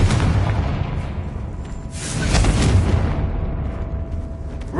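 The Confringo fire spell exploding in Hogwarts Legacy: a loud, broad rumbling blast that swells in the middle and holds a dense roar throughout, with no talking.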